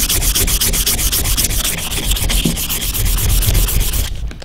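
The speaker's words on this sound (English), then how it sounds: "Those two knife handles now are sanded up to 800 grit" Micarta knife handles being hand-sanded with sandpaper, working up through fine grits to 800: a loud, steady rasping scrub in quick back-and-forth strokes close by, with no speech, stopping abruptly just before the end.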